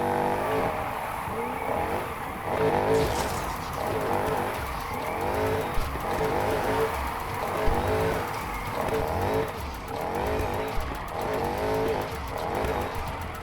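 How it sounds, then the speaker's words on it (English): Dodge Charger with a forged 5-liter supercharged V8 and 4-speed drifting in Need for Speed Heat, a roaring engine with rising and falling revs over steady tire squeal, continuous and loud without talking. "Going to run each car through this simple drift zone loop multiple times to see what's the highest score I can get."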